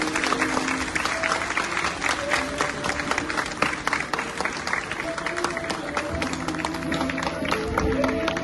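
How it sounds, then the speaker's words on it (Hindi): A school audience claps for dancers after a performance of the Hindi drama Dhruvswamini, with dense, steady applause and crowd noise continuing throughout and voices mixed in. "अपने नृत्य से ध्रुव स्वामिनी के भावों को सुंदरता से अभिव्यक्त करने वाले नर्तकों का जोरदार तालियों से स्वागत कीजिए।"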